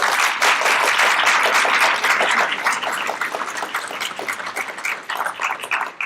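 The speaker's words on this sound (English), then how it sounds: "You owe them a huge round of applause." An audience at a university credential program orientation claps loudly and continuously, dense applause that gradually thins and softens toward the end.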